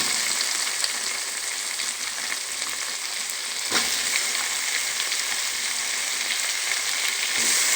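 Tomato frying in a pan for beetroot palya: a steady, close hiss and crackle of sizzling oil that continues throughout, with a faint clink partway through and no speech.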